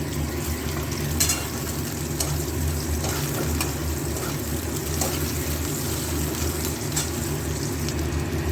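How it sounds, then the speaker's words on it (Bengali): Sliced onions fry in hot oil with garam masala, giving a continuous close sizzle with occasional clicks and stirring scrapes, no voices over it. "পেঁয়াজটা একটু ভাজা ভাজা হোক।"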